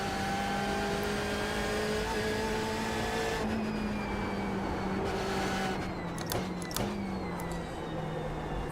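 A BMW M8 race car engine at Summit Point in iRacing drones loud and steady, its harmonic tone rising and falling with throttle, with brief clicks and gear-change dips near the end.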